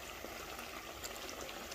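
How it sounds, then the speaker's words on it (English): Green chili sauce frying in a covered pot gives a steady, dense sizzle and bubbling hiss that stays close and even throughout, with no talking. "So we are frying this to get every water out so that it will be dry"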